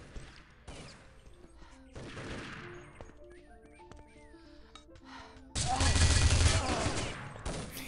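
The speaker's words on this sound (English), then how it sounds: "Bray getting some lovely frags with that SR8." Gunfire in a competitive first-person shooter match, including SR8 rifle shots, heard as scattered sharp cracks and bursts over game ambience, swelling into a dense, loud volley near the end.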